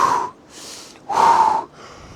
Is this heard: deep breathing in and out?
yes